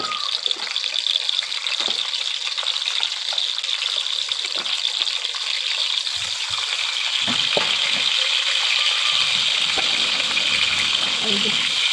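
Potatoes and pointed gourd, coated in salt and turmeric, drop into hot oil and sizzle loudly and continuously close by, a constant crackling hiss with scattered pops.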